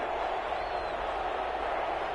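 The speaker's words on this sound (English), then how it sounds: "the crowd getting into it as we come up on a big 3rd down" Crowd in an American football stadium video game, Packers versus Lions, a steady roar of many voices building ahead of a big third down, continuous and fairly loud with no clear single shouts.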